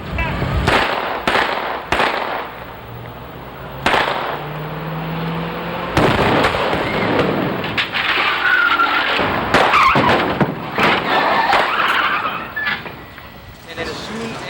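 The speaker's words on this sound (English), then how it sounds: "a nice close-up of the car sliding and the two police cars coming" Stunt car sliding with tires skidding as two police cars approach, sharp bursts and scraping screeches mixed with engine noise and people talking in the background.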